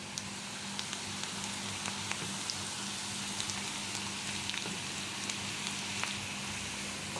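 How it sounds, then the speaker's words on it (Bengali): Onion and garlic fry in oil with whole cumin seeds, a soft, steady sizzle and occasional faint pops, quiet and continuous. "আমি ঝাল পেঁয়াজ রসুনটা ভালো করে একটু ভাজে নিই।"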